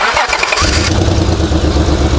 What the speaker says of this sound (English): Now I need to start the engine.